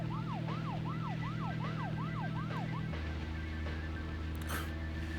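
An in-game emergency siren from Deadly Premonition wails in steady repeating rising and falling sweeps over a low engine hum. It then stops, leaving the droning vehicle sound.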